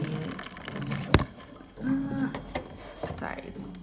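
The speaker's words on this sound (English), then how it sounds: "I'm going to fill this up with water" Very hot water pours into a container, a close, wavering liquid rush with a sharp clunk near the start, while a person talks over it.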